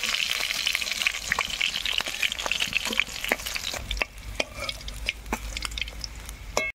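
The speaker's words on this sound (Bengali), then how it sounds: "মাছগুলো সুন্দর লাল লাল ভাজা হয়ে গেছে" Live shol (snakehead) fish frying in hot oil in a village kitchen, a steady close crackling sizzle with sharp pops and spatters throughout, no voices.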